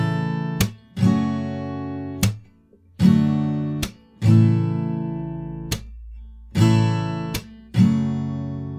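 An acoustic guitar strums a chord rhythm over two measures, with sharp percussive strokes and ringing chords in an uneven pattern, played close and alone.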